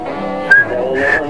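Two short, high whistled notes, one quick and one slightly longer, over a low background murmur.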